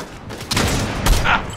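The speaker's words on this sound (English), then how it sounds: "I'm shooting him." Rapid gunfire bursts from a shooter video game, two loud volleys of continuous shots with a brief lull between, close and dense, with no voices over them.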